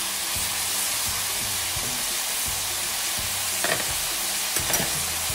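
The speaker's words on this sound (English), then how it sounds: "Right now my steak has been cooking for about 5 minutes." Steak cooked for about five minutes, with sliced peppers and mushrooms, sizzles steadily in a hot pan, a dense continuous crackle with a few sharper pops near the end and no voices.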